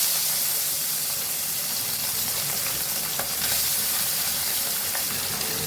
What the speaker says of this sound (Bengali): মাছটা আস্তে আস্তে ভাজা হবে